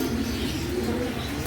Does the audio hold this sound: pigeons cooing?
yes